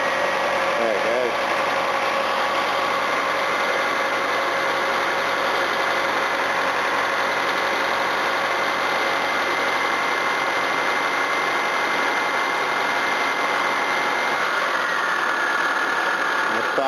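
A Toyota Camry engine runs steadily, a continuous close mechanical drone with slight knocking vibration throughout, loud and unbroken.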